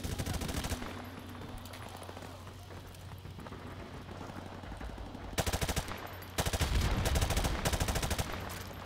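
Automatic weapon fire from the Modern Warfare Remastered campaign mission Bog, loud rapid bursts of shots in several volleys over a steady rain-like background, with heavier sustained firing near the end.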